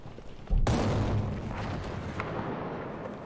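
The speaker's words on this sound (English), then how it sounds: "Vidi artillery strike na mapi." An artillery strike in Battlefield V Firestorm sets off one sudden heavy boom, followed by a long, loud, rolling rumble that hangs on afterward.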